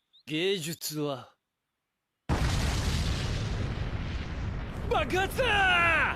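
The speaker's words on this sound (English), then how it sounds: "I am blown away by just how real that explosion looked" A loud explosion from a Demon Slayer anime scene bursts in after silence as a sustained roaring blast, with voices talking before and after it.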